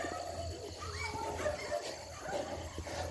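Dogs kept in a cage let out a few yips and whimpering barks at a middle distance, heard over steady outdoor background noise.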